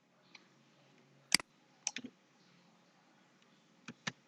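Scattered clicks of a computer keyboard as a shortcut is typed while editing a server configuration file on Debian, a sharp double tap then a few lighter key presses, close and quiet.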